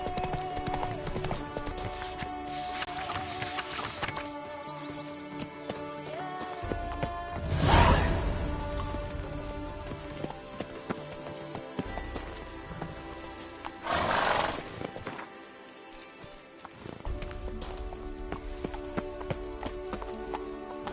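Roach, a horse in the video game Witcher 3, gallops with a steady, close clip-clop of hooves, a loud whooshing swell and a brief whinny partway through, and continuous drumming throughout.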